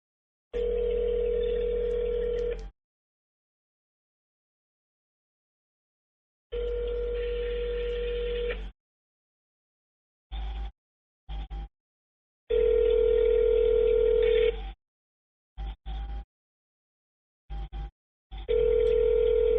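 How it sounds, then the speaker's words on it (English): A telephone ringback tone sounds on a call, with steady two-second tones separated by long silences and a few short clicks and blips in between. "It's just ringing."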